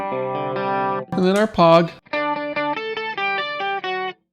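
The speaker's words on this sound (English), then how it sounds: "That we've got our chorus now." Electric guitar run through a Fractal FM9 chorus effect, ringing sustained chords and a few bent notes with a shimmering, doubled tone, loud and close, broken by short gaps between phrases; a voice speaks briefly partway through.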